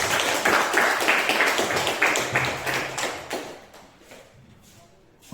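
A class of students clapping their hands together in a classroom, a fast run of crisp claps that grows fainter and more scattered toward the end.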